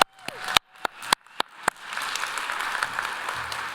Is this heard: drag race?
no